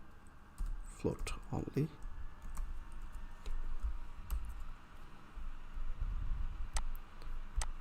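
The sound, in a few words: typing on a computer keyboard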